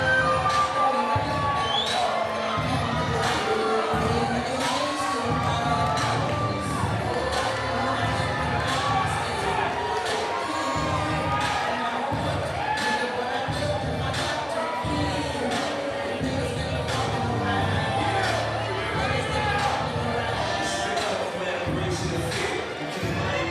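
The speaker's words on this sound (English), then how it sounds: "Wow, the crowd getting right behind this fight." A fight night crowd in an arena roars and cheers without a break, a loud dense wall of voices with shouting rising above it and speech mixed in.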